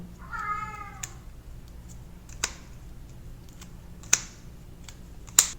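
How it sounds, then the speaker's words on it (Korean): A house cat meows once, a short, clear, drawn-out call near the start, followed by scattered sharp clicks and taps from cards being handled on a tabletop during a board card game. "고양이가 울어대네요"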